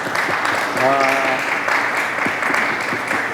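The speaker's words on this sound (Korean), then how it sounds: "세 분께 한번 환영의 박수 부탁드립니다" An audience welcomes three speakers at a Korean talk event with a wash of applause, sustained and fairly even, with a voice briefly heard over it.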